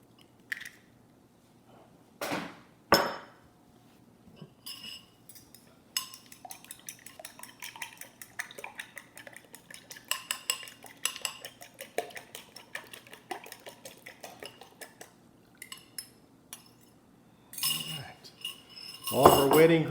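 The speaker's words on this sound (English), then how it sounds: "I have 2 large eggs that I want to beat slightly" Eggs beaten with a utensil in a bowl make quick, light clicks and scrapes in uneven bursts, bracketed by a few louder clinks and clatters at the start and end.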